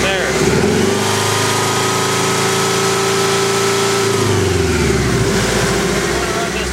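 A Subaru engine idling steadily during a coolant fill and burping, a loud, continuous drone close to the mic. It eases slightly in pitch toward the end, and a voice talks over it.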